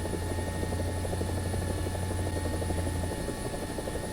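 A helicopter in the War Thunder simulator coming in to land gives a steady, droning rotor and engine hum with a low throbbing tone that drops away near the end.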